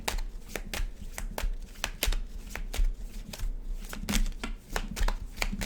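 A deck of playing cards is shuffled up close, with a quiet but steady run of crisp riffling snaps and flutters and no talk over it.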